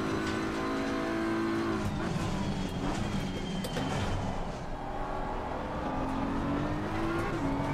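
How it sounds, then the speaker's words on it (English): Race car tires sliding at Kyalami in a racing game, a loud steady engine roar with rising and falling pitch and faint squealing as the car slides through corners. "Tires are sliding now. The tires are sliding out."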